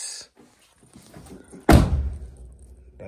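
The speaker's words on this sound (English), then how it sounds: "That door sounds so sweet." A car door slams shut once with a loud, solid thunk that rings out briefly, following a few faint clicks and handling noises; no one speaks.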